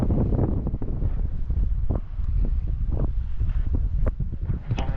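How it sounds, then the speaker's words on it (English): Steady wind buffets the microphone aboard a sailing boat under genoa in a 10 to 11 knot breeze on the east coast off Brightlingsea, a constant low roar with occasional gusts and faint water sounds, no talking. "Got decent wind, about 10 to 11 knots."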